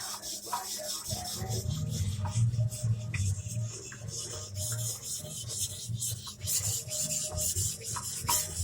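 A knife blade scrapes back and forth across a whetstone, raising a burr, making continuous close gritty rubbing strokes in a steady rhythm with no voice.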